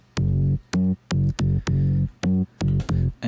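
A bass line from a video game music score plays alone in short, punchy, rhythmic notes with brief gaps between them, loud and close with no other instruments.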